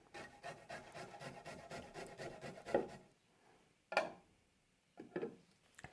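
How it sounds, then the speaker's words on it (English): A garlic clove is rubbed quickly across a microplane, giving a rapid rasping scrape followed by a few short separate scrapes and taps, close and quiet, with no voices. "I'll take this 1 clove and my microplane because this is going to go in the raita. And I'll just grate that in."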